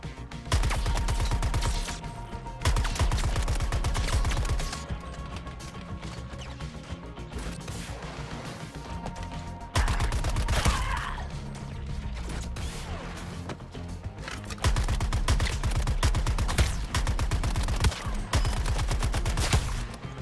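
Weapon fire in Suicide Squad: Kill the Justice League, with bursts of rapid automatic shots alternating with quieter stretches of mechanical clatter and gun handling, sustained and fairly loud throughout.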